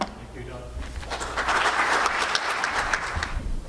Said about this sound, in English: let's give all the mayors one last round of applause